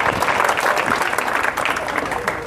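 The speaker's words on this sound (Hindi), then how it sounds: "इसको ताली बजा दो ज़रा" An audience claps steadily and loudly throughout, a dense continuous applause at a motivational speech event.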